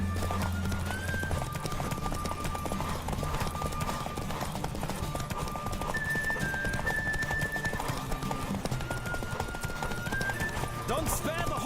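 Hooves clip-clop steadily at a gallop as a horse races in the fantasy video game Witcher 3, a continuous driving rhythm under game music and voices that runs the whole stretch.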